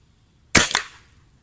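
An air rifle firing JSB 18.13-grain pellets lets off one close, sharp crack, followed a moment later by a second smaller snap or impact, then a short fading tail.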